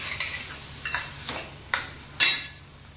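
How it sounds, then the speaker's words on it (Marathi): Ginger garlic paste sautés with golden onions in a pan for a guar and potato curry. A soft sizzle runs under several sharp spoon clinks and scrapes against the pan, and there is no speech. "आता यात आपण घालूया आलं लसणाची पेस्ट अर्धा चमचा आणि ही परतून घेऊया।"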